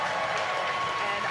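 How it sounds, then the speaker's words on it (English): A loud, dense crowd cheer with clapping fills SpaceX Mission Control in Hawthorne during a crewed launch, a steady roar of many voices throughout. "obviously confirmed by the loud cheer behind us here at Mission Control Hawthorne"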